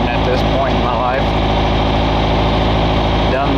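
A steady engine idles loudly and continuously, a low rumbling drone with a constant vibration throughout.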